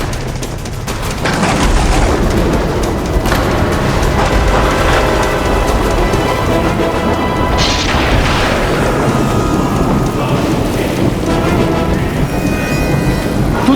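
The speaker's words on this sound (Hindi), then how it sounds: "इतनी बारिश और तूफान में कहाँ जा रहे हो?" A heavy thunderstorm with pouring rain, a dense, loud roar of rain broken by deep rumbling thunder booms, continuous and close throughout, with no talk.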